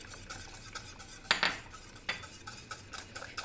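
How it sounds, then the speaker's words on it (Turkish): A spoon clinks and scrapes against a pot while stirring a thin yogurt soup for a baby, with a few sharp metallic knocks among quieter irregular scraping. "karıştırmaya devam ediyorum"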